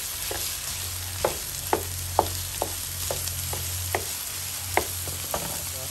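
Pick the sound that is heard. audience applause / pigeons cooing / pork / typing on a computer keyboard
pork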